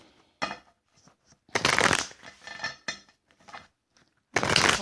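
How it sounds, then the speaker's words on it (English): A deck of playing cards shuffled by hand, several quick riffling bursts separated by short pauses and light tapping, close and clear with no talking. "cards shuffled."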